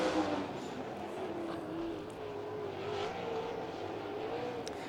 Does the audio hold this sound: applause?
no